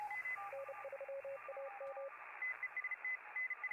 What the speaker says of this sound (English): I really hope this Morse code sound effect I looked up on YouTube isn't, like, just the worst shit